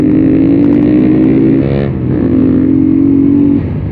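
A carbureted Bajaj Pulsar 220 motorcycle engine runs loud and close, revving steadily with a brief dip in pitch midway before holding a strong idle-rev drone.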